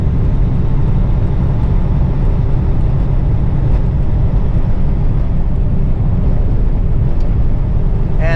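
Steady low road and engine rumble from inside a car driving east along a highway near a truck stop in Napanee, Ontario, continuous and fairly loud with no talking.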